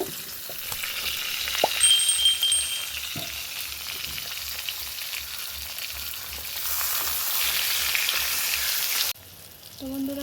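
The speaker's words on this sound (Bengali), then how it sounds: "বন্ধুরা, বেগুনগুলো ভেজে নেব এবার।" Eggplant slices fry in hot oil with a steady, close crackling sizzle that runs throughout, punctuated by occasional clicks and louder bursts of spattering before it abruptly drops near the end.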